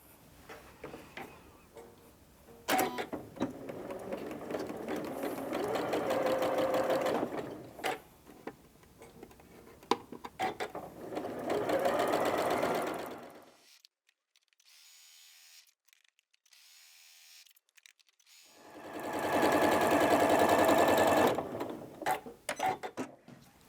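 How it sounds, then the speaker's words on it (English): Sewing machine stitching quarter-inch seams on quilt blocks: mechanical whirring in several bursts of a few seconds each, separated by a quiet gap, moderately close with no talking. "take those to the machine and I'm going to sew a scant 1/4 inch either side of that line"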